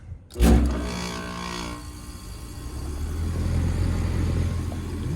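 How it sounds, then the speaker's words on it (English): An HVAC unit's fan starts with a brief whoosh, then a low, steady mechanical hum and rumble of a running compressor settles in and continues. "We got fan. Compressor sounds pretty good."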